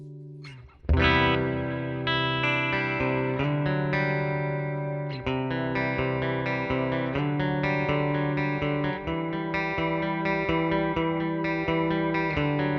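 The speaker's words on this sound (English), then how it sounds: "Sounds like it's begging for some reverb, so let's flick that on." Sustained synth plugin chords and melodic notes with reverb switched on, lush and continuous, tails blurring into one another across the passage, with no talking.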